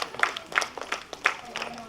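Scattered hand claps from a small gathering at a haldi and mehendi celebration, a few sharp irregular claps rising over steady background chatter and voices.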